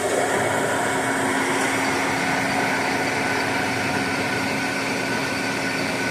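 A Lucas model 41 machine spins up with its newly fitted lead screw, giving a steady, loud mechanical whir with a constant hum that holds evenly throughout, with no talking.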